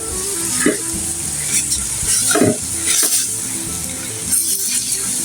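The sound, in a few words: vegetables stir-frying in a pan with salt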